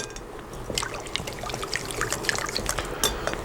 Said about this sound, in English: I'm just gonna take out some more pasta water just in case I need it.